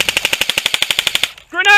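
A loud, close burst of airsoft gunfire during an outdoor skirmish snaps off about fourteen rapid, evenly spaced shots in just over a second, followed by a short shout.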